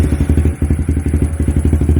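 A Honda Z125 motorcycle with a custom-ported head and 32mm throttle body idles close and loud, a rapid, even thumping beat with a brief dip near the start, no talking.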